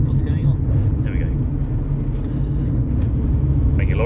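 A lorry rumbles past on a road with a low, steady roar close by, while someone talks over it.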